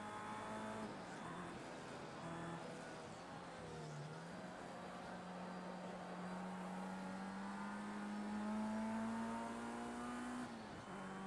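Formula Rookie open-wheel race car engine in the racing game Project CARS 2 on a Long Beach street circuit, a high whining drone that slowly climbs in pitch under steady throttle, dips briefly, then drops at the end.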